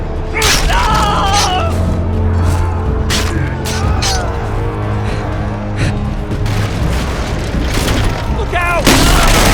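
Gunfire and explosions in the Game of Thrones Telltale video game, a loud, dense battle din of booms, sharp shots and clashing impacts running continuously, with shouted voices mixed in.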